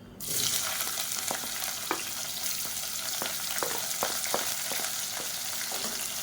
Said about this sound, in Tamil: இப்போ பாருங்கள், நல்லா பொரிய ஆரம்பிச்சிருச்சு